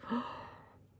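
A single breathy yawn during a vocal warm-up practice in a voice lesson, a soft rushing exhale that swells briefly and then fades away, close and unaccompanied.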